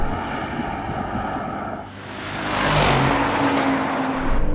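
A Mercedes-AMG G63 accelerates hard in a drag race, a steady engine drone that dips briefly then swells into a loud rising roar with rushing wind.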